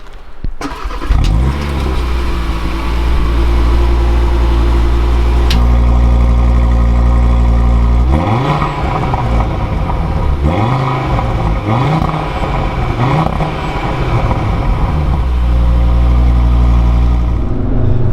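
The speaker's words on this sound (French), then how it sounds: "on va démarrer la voiture" A 2022 Audi RS3 starts with a loud crank and catch, then idles steadily before a series of rising and falling revs from the engine, close and strong with no voices.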